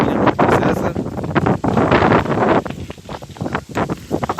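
Strong wind buffets the microphone in loud, continuous roaring gusts during a bike ride on a short, steep gravel climb, with no voice over it.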